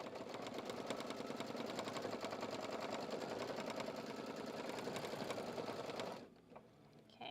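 An embroidery machine runs a fast, even stitching rhythm for about six seconds while sewing a placement line for flexi foam, then stops, leaving a quiet room.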